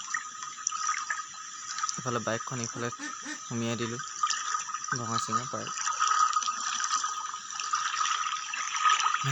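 Floodwater from the Dihing river flows through a village courtyard in Nalani village, Dirak area, a continuous close rushing and trickling, while someone speaks in short bursts over it.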